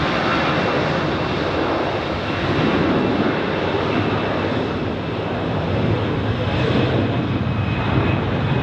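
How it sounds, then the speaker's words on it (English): A Polish airline's Embraer 195 E2 jet bound for Warsaw roars steadily at Zurich Airport, a loud, continuous engine rumble lasting the whole stretch with no pauses. "we have a lot of Polish airlines. Embraer 195 E2"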